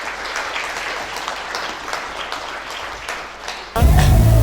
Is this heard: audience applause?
yes